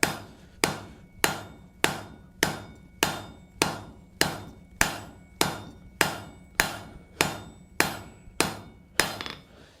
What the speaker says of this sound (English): now we're going to go ahead and draw this down with our center punch marks up, using the horn of the anvil